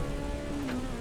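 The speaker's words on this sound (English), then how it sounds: "At least we've got rain native in this game" Steady rain hiss in the Assetto Corsa Evo racing game, a continuous wash of noise with a faint tonal engine whine sliding beneath it, no voices.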